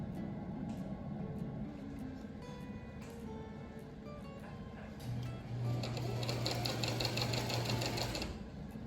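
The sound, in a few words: sewing machine stitching a continuous placket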